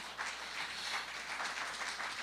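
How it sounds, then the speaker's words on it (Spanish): Church congregation clapping together during a Spanish-language service, a soft, somewhat distant patter with faint rhythmic pulses. "Dele fuerte las palmas al Señor."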